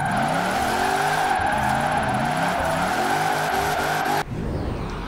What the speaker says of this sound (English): And then we've already spun out.